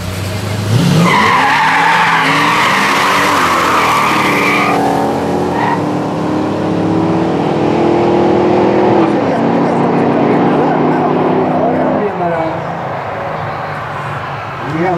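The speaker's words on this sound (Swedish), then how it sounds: "Och under tiden kör vi finalrepan i gatbilsklassen." Street-class cars in a final run at the Eskilstuna Shootout drag racing event: loud sustained engine roar with tire squeal and rising, shifting engine tones for the whole stretch, with a commentator's voice over the noise.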